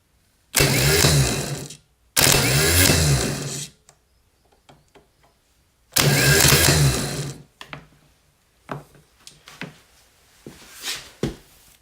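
A BMW R80 motorcycle starter motor spun on test during a custom build, three loud whirring bursts of a couple of seconds each, followed by quieter clicks and short mechanical taps.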